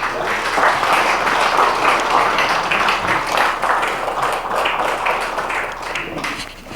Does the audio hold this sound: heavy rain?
no